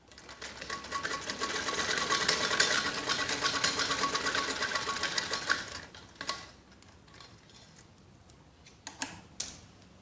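An electric sewing machine stitches a kids' skirt in a rapid, loud mechanical run for about six seconds, then stops, followed by a few faint handling clicks.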